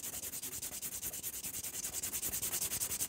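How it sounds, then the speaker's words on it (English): A nail file rasps rhythmically over a sculpted fiber gel stiletto nail. The close, quick, evenly spaced strokes continue without pause, and no one speaks. "So I'm filing one side"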